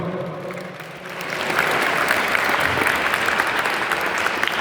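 Many people in a motivation class audience clap together: a brief lull, then a full, sustained round of applause that grows louder and continues evenly without speech.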